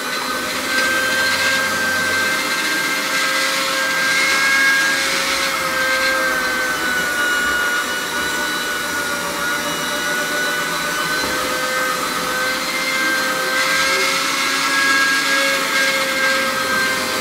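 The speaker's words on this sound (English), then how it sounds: "So I'll just give it a little polish with my floor polisher." A floor polisher buffs old lead on stained glass, giving a loud continuous motor whine and brushing roar that holds steady throughout with no talk.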